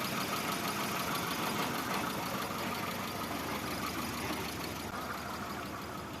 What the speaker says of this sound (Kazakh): Маке бул жерде оталды машина.